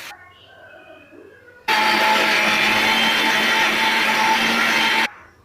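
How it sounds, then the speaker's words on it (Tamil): A mixer grinder whirs loudly for a few seconds, grinding cooled sautéed greens for soup in its jar, a steady high-pitched grinding roar that starts abruptly and cuts off, after a quiet start. "இப்போ நம்ம ஆற வச்சு மிக்ஸி ஜாரில் அரைச்சிடலாம்."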